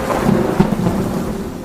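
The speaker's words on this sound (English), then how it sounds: "the wind howled and rain poured down" Storm sound effect of howling wind and pouring rain with a thunder-like rumble, a dense continuous roar that stays loud for the whole short stretch.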